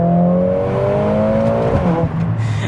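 A Mercedes A45S AMG accelerates hard, its engine note rising steadily in pitch through the gears, close and loud with no talking over it.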